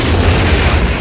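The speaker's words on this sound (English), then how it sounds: "Explosion!" A loud explosion in the film Tremors makes a dense, heavy boom that fills the moment with a roaring burst of low rumble.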